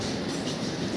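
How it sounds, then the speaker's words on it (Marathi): A long train rumbles past at close range, a dense, steady roar of wheels and cars for the whole moment. "हे ते काय ट्रेन संपतच नाही"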